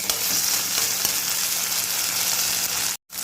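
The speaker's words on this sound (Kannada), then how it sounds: "ಶುಂಠಿ ಬೆಳ್ಳುಳ್ಳಿ ಪೇಸ್ಟ್ ಒಂದು ಸ್ಪೂನ್ ಹಾಕಿ ಹುರಿಬೇಕು" Ginger garlic paste frying in a pan for Mangalore-style chicken sukka gives off a loud, steady close-up sizzle that continues unbroken, then cuts out briefly near the end.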